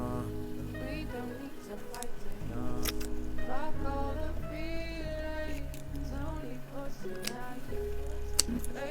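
Scissors cut through HD lace on a frontal wig. A scattering of crisp, close snips sounds over a humming background.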